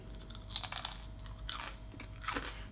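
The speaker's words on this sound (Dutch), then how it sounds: "Taste test met de ananaschips." Homemade pineapple-flavoured potato chips crunched in three crisp bursts of biting and chewing, close and fairly quiet, with no talking.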